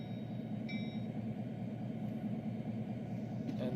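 A train rolling through Trainz 12 gives a steady low rumble that runs throughout, with a brief faint chime partway through and a small clank near the end. No one speaks.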